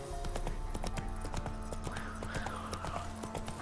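Rapid, evenly spaced hoofbeats from Roach galloping in The Witcher 3 video game, moderately loud over a dense wash of game music and ambient noise, lasting only a few seconds.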